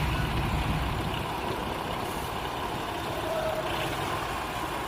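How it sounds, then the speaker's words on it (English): Belly dump truck idling and rumbling on an asphalt paving job as it readies to unload in front of the paver, a steady broad engine drone close by with no talking. "Belly dump truck getting ready to unload in front of the paver."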